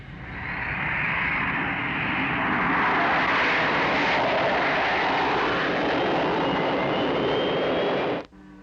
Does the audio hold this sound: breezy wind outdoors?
no